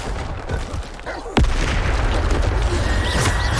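A Bombarda spell detonates in Hogwarts Legacy with one sharp, loud boom that gives way to a roaring rumble and scattered combat noise.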